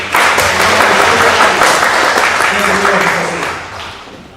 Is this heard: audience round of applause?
yes